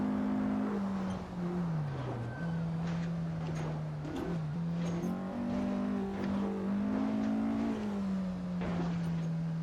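A Porsche 718 RS 60 Spyder engine in Assetto Corsa, racing the 1958 Boavista circuit, drones loud and steady, its revs dipping and climbing through gear changes with no talk over it.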